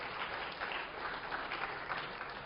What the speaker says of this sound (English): All right, so round of applause again.